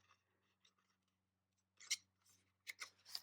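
Scissors snip through paper on a craft project, a few quiet, crisp cuts spaced irregularly, with a cluster of sharper snips toward the end and no talking.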